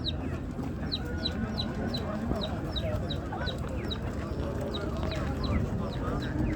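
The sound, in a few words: chickens clucking at poultry market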